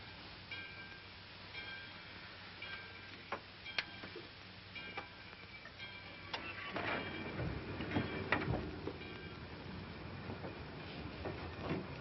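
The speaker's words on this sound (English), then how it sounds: "the train's moving" A train rolls along with a steady low rumble and sharp intermittent clacks and creaks of the cars, heard from inside, quiet and continuous, the rattling growing denser toward the middle, with no one speaking.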